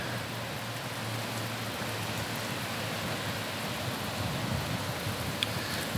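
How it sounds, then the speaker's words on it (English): Steady rain falls around a mustang halter-training area, making an even, dense hiss throughout with no pauses and no voices. "It's just rain."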